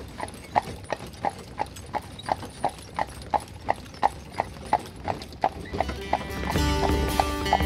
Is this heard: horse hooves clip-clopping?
yes